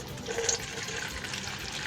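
Water poured into a container to dilute air conditioner coil cleaner, a steady close splashing and filling sound with no speech.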